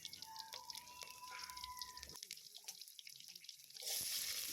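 Water is poured into a simmering prawn gravy in a home kitchen, a thin trickling pour with faint drips before a brief louder splash near the end.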